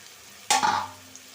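Data (vegetable stalks) frying in a pan for a catla fish curry give a sudden burst of stirring and sizzling that rises, holds briefly and fades, alone and close.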